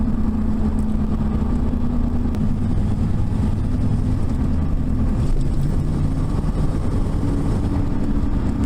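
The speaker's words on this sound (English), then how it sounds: "I got hooker exhaust muffler on it, and that's all I got on there." An old Dodge Dakota pickup engine with a Hooker muffler rumbles loud and steady with a deep exhaust drone, heard from close by without any voices.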